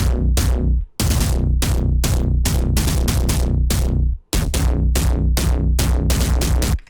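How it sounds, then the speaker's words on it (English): A loud, punchy electronic kick drum hammers out a fast, syncopated pattern, with two brief gaps breaking the rhythm. "So I made this crazy pattern with this kick."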